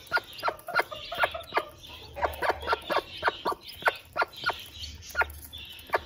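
A newly hatched desi hen chick peeps in quick, sharp, repeated calls, close and fairly loud, with a faint low rumble beneath.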